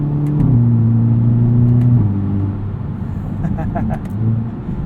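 A 2022 Hyundai Elantra N with a dual-clutch transmission pulls hard under full throttle, its engine droning steadily with quick upshift steps, heard from inside the cabin beneath someone talking.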